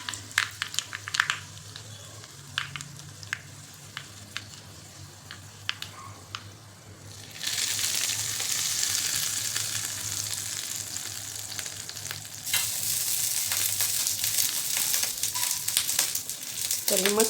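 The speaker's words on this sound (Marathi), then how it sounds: "आपल्याला तडका द्यायचा आहे. त्यामध्ये घालायचे मोहरी, लाल मिरची घातली" Mustard seeds and red chili crackle in hot oil for a tadka over coconut chutney, starting with scattered pops then swelling into a loud continuous sizzle that surges again midway, with brief speech near the start.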